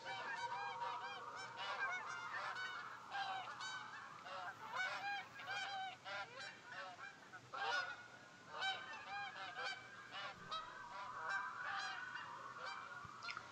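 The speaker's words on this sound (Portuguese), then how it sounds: "Estes são os patos lá em cima de tudo, não é? Que andam a passear lá em cima de nós." Waterfowl honking overhead in theHunter: Call of the Wild, a steady chorus of repeated goose-like calls continuing throughout, fairly close and loud against a faint background hum.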